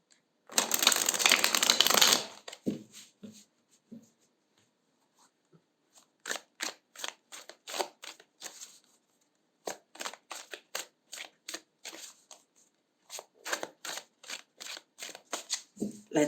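Tarot cards being shuffled: a loud dense riffle burst at the start, then pauses and runs of quick, crisp card flicks and snaps, close up and with no voices.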